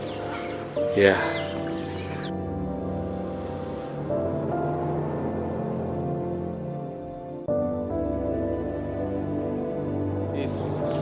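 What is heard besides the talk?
small adult chickens clucking at an animal sanctuary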